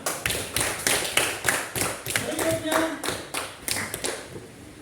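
A small group claps in uneven bursts of separate sharp claps that fade and return, with a voice talking over them.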